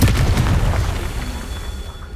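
A deep, booming fire-spell explosion from the Hogwarts Legacy video game, Confringo, bursts loudly at once and then rumbles and fades over about two seconds.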